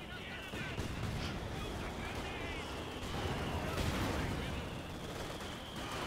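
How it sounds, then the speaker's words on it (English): Mortar and grenade fire in the World War II strategy game Company of Heroes 2, a continuous rumbling barrage of muffled blasts and booms at moderate volume with a brief louder swell partway through. "I should probably stop firing the mortars now that I think about it"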